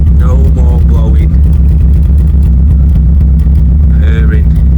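A Renault Clio 172 track car engine idles with a steady, loud, low rumble that holds throughout, while people talk over it.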